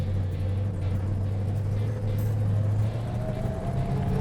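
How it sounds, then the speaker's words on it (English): Plymouth Superbird with a Hemi engine and old 4-speed crash gearbox, driving with a steady low engine rumble and a thin rising gear whine heard from inside the car. "There's that old Hemi 4-speed whine"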